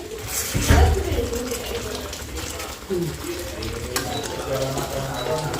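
Garlic fenugreek greens sizzle in a hot pan while being stirred, a steady frying hiss with scraping spoon movements and a louder clatter near the start, with people talking over it.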